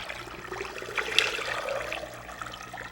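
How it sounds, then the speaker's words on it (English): Water poured from a pitcher into a jar until it is filled to the brim, a steady splashing pour lasting a few seconds and heard close up, with no talking. "we're going to take a pitcher of water, Robert, and we're going to pour it right on"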